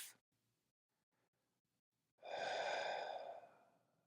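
A single long, breathy exhale through the mouth, close and fairly loud, rising quickly and fading out over about two seconds after near silence.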